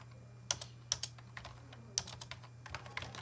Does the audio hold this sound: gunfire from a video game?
no